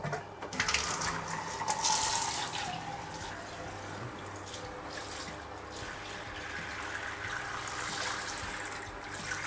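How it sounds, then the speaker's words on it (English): Hot tap water running into a homebrew equipment cleaner, a steady close rush of splashing liquid that stays constant throughout. "So this is connected to the hot tap system, So it should come out already at about 35 degrees or so."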